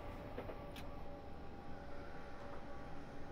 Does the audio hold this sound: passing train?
yes